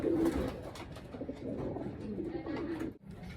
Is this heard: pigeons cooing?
yes